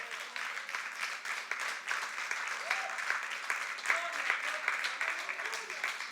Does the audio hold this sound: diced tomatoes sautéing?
no